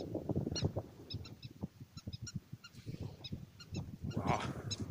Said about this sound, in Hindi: देखिए चिड़ियों की आवाज